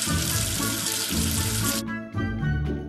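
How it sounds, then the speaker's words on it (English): Water runs from a tap in a steady hiss, then cuts off abruptly, followed by softer splashing as something is rinsed. "Wash away the soap with water."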